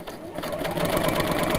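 A sewing machine stitches steadily over loose thread, its motor whirring at a close, even pace that picks up slightly partway through, with faint background sound mixed in.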